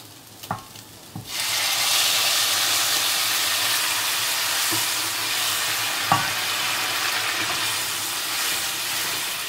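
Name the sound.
hot water added to chicken frying in a pan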